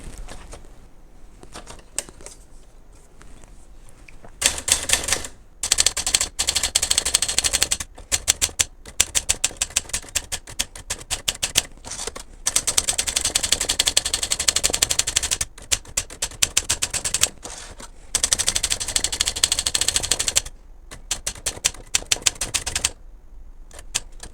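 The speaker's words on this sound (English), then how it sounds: "before I put it all back together, put a ribbon in it, and do a proper type test" An Adler Contessa De Luxe typewriter being tested after inspection and troubleshooting, with loud, close bursts of rapid key strikes separated by short pauses, running for most of the stretch.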